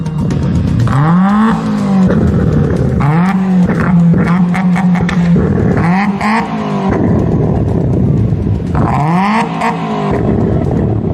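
A modified car with a fire-spitting silencer, seized at Nilambur, revs hard in repeated bursts. Each loud, close blip climbs and falls sharply over a rumbling exhaust, with short pauses between the surges.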